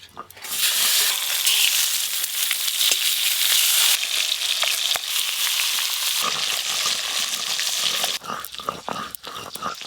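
Catla fish pieces fry in hot oil, a loud, steady broadband sizzle that runs nearly the whole time and thins toward the end with a few sharper crackles and spatters.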